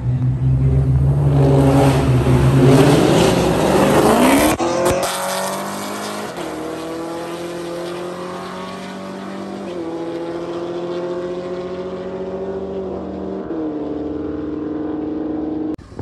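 A Dodge Challenger Scat Pack and a Camaro SS roll race, engines roaring hard at full throttle, then a loud shift and a sustained rising drone with several gear changes as the cars pull away.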